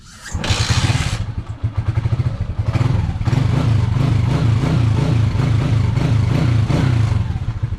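A motorcycle with a weak battery is kick-started: a brief opening burst, then the engine catches and settles into a steady, loud, close idle with a rhythmic thumping beat and mechanical clatter.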